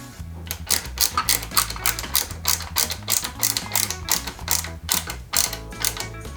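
Small screws being driven into the left and right cockpit panels of a 1/8 scale Alpine A110 1600S model, a rapid, steady clicking ratchet-like rattle that continues throughout, close and fairly loud.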